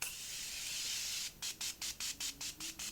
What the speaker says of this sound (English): I'm gonna take the Morphe Continuous Setting Spray.